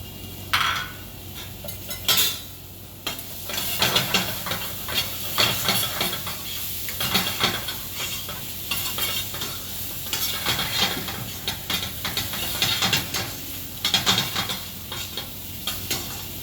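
Chopped onion sizzles and fries in a pan while a spoon stirs it, with steady hiss and repeated scraping and clinking of the utensil against the metal, close and fairly loud throughout.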